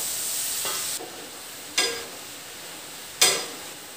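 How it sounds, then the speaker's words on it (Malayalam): Masala peanuts deep-frying in a pan of oil, a constant close hiss of sizzling punctuated by three sharp stirring scrapes and splashes spaced about a second or more apart, no voices. "ബാക്കിയുള്ളതും ഇതുപോലെ വറുത്തെടുക്കും."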